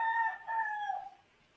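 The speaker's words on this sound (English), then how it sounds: "That's not my rooster, by the way." A neighbour's rooster crows once nearby, a clear drawn-out cock-a-doodle-doo with a falling tail that fades after about a second, with no talking over it.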